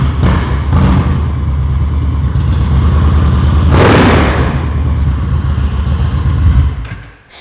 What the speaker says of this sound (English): Give it a good rev.